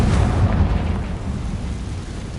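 A Confringo spell explodes in the video game Hogwarts Legacy, a loud, short booming blast that rumbles and decays over a couple of seconds with no voice over it.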